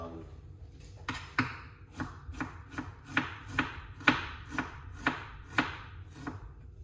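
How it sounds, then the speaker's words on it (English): A knife chops ginger on a cutting board in a steady series of about a dozen sharp, close knocks roughly half a second apart, each a crisp blade strike against the board, with no talking. "So slice up the ginger, just like this."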